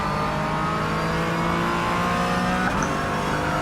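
Race car in a sim racing game driving a lap, with a steady loud engine drone rising and shifting in pitch, and a brief tire or gear change near the end, no talking.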